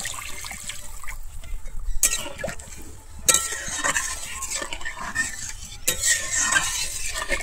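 Water poured into sizzling masala in a pan for jackfruit kofta curry, a loud burst of hissing and bubbling with scraping and clinks of stirring, surging again in sharp bursts.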